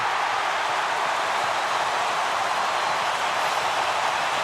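A loud, unbroken roar from a packed stadium crowd at a 2011 AFL semi-final between West Coast Eagles and Carlton, a dense wall of cheering with no distinct voices.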